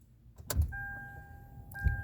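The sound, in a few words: car key reinserted into Hyundai Elantra ignition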